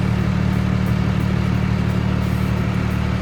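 A steady, loud bus engine rumbles at idle with a constant low drone and light mechanical clatter, running continuously without pause.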